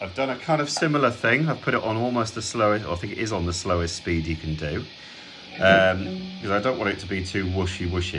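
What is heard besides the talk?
No distinct noise like a dog, phone or traffic.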